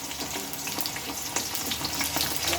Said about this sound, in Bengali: আলুগুলো আমি দিয়ে নিচ্ছি আর আলুগুলো ঠিক একইভাবে হালকা করে ভেজে নেব